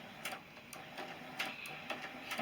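Sewing machine stitching a quilt block seam, a quiet, rapid, even mechanical ticking that keeps a steady pace throughout.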